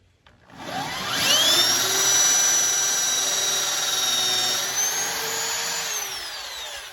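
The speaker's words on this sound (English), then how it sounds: "drill through both of them at the same time." A power drill bores through two stacked wooden boards for a chicken run door. It gives a loud, steady, high-pitched whine that holds for several seconds, then winds down near the end, with no voices.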